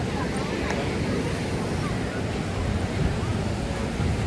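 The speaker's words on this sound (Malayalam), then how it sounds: "ഭയങ്കര ബംഗാൾ കടൽ ഭയങ്കര രൗദ്രഭാവത്തിലുള്ള" Rough Bay of Bengal surf at Dhanushkodi rolls onto the shore as a steady, dense wash of waves mixed with wind noise on the microphone, continuous and fairly loud throughout.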